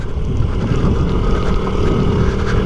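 A 1993 Honda Z50R small motorcycle riding along, its engine a steady, continuous low drone that fills the whole stretch, with rumbling wind buffeting mixed in and no pauses.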